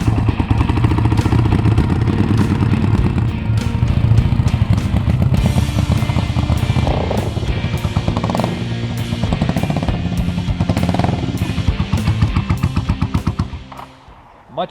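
A Suzuki Intruder motorcycle with a leaking carburetor runs nearby, its engine giving a loud, continuous rumble with rapid rhythmic pulsing that rises and falls before cutting off at the end.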